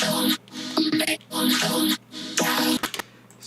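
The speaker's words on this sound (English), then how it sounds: "And then when I put the vocoder on it and trigger it with these chords here" Vocoded vocal chops for a bass music build-up, triggered by chords into bright, buzzy synthetic bursts that stutter in short rhythmic phrases with brief gaps between them.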